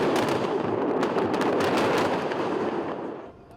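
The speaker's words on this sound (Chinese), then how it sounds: "国界另外一边的黎巴嫩南部的山边传出阵阵爆炸声" Explosions from Israeli airstrikes on the hillsides of southern Lebanon come as a dense rumbling barrage of crackling booms that fades out near the end, heard from a distance with no speech.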